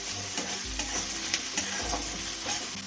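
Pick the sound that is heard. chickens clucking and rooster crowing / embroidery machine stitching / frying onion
frying onion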